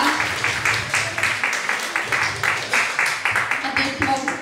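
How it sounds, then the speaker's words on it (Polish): Festival audience at a song contest in Szczecin applauds after a performance, a steady wash of rhythmic clapping close and fairly loud for the whole stretch, with faint voices under it. "Gorące brawa."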